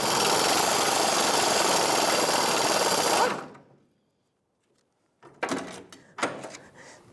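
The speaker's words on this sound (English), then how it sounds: "a 15mm socket with my air gun trying to get these to break free" Air impact gun with a 15mm socket hammering at rotted bolts on a 1992-1996 Ford F-150 fuel pump job, a loud sustained rattling burst for about three seconds, then silence and a few short clanks of tool handling.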